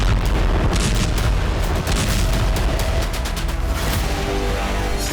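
Explosions from drone strikes on Russian air bases roll on continuously as dense, loud booms and rapid cracks, with sharp blasts repeating over a heavy rumbling backdrop.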